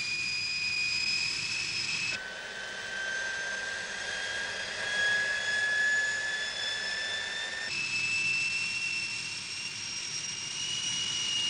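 An Aero L-29 Delfín jet trainer with a British engine whines steadily in flight, a high turbine tone that shifts in pitch twice as power changes, heard continuously from inside the aircraft without talk.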